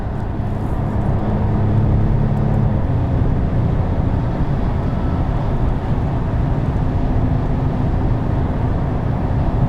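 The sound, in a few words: Porsche 992 911 Turbo S accelerating hard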